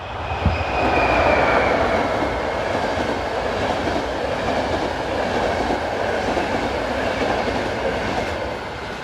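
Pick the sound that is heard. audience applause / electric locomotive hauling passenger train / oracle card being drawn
electric locomotive hauling passenger train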